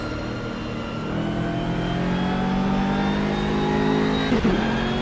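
GT3 race car in rFactor 2 at the Mugello circuit, its engine revving and accelerating out of a low-speed corner, a steady rising drone with harmonic whine that holds close and loud throughout with no talk.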